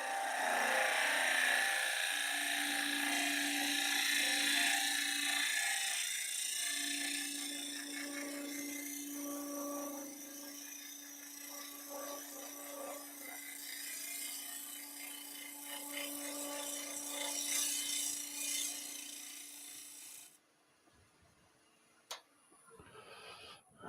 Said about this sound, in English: So now we're in sort of shear scraping mode. We can kind of clean that up